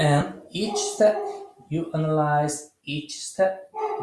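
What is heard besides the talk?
No everyday noise stands out behind the speech.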